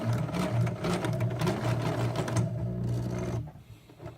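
A domestic sewing machine runs in a steady mechanical whir while reverse stitching to lock the end stitches of a beginner's tote bag, close and continuous before cutting off abruptly near the end.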